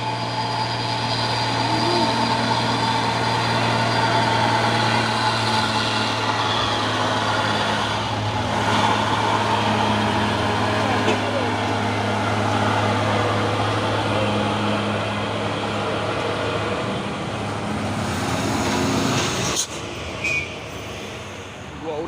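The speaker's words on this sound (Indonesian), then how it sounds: "Truk tangki CPO ini ya." A CPO tanker truck rolls past on an Indonesian road, its engine a steady loud drone with a low hum that holds for about twenty seconds, then cuts off abruptly near the end.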